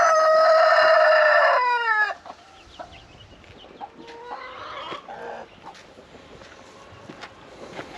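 Rooster crowing loudly up close in a rural hobby coop, a single long crow that ends abruptly, followed by quieter scattered clucking and rustling from chickens, with no voices.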